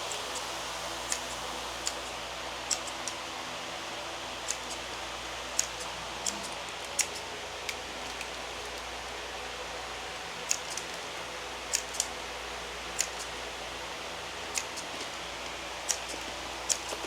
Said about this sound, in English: working on trimming the last of the onions